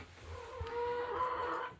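Three-month-old Rhode Island Red chickens give a short burst of close clucking and drawn-out calls, lasting under two seconds with no voices.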